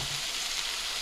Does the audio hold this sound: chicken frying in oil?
yes